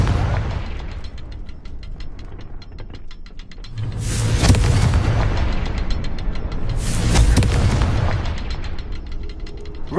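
Confringo spell blasts in a Harry Potter video game, two heavy booming explosions a few seconds apart over a steady rumbling, crackling game background, loud and close.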